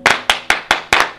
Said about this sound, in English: clap along, guys.